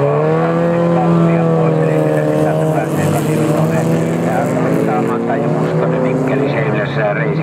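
Rally car launching off the start line and pulling hard into the first corner of a snowy Rokkiralli stage in Pieksämäki, engine loud and sustained with rising harmonics, under continuous commentary.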